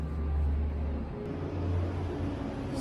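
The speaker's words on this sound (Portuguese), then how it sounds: "aqui passam muitos autocarros" Low, steady rumble of heavy road traffic with buses passing along a city street, a loud engine drone swelling at the start and again near the middle before easing off.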